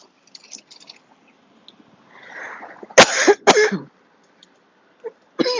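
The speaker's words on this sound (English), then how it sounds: "Forgive me for coughing." A person coughing: a soft rustle, then two sharp close coughs in quick succession, followed by quieter throat sounds and another cough starting at the end.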